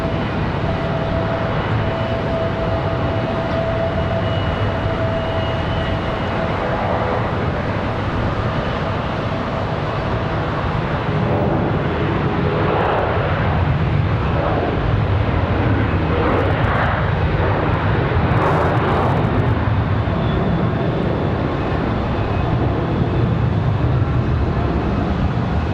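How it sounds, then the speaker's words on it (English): A Boeing 737 airliner on its takeoff roll at Charlotte Douglas airport gives a loud, continuous broadband jet roar that swells slightly over nearly half a minute, heard from a distance without any voices. "you can hear that 737 getting a move on"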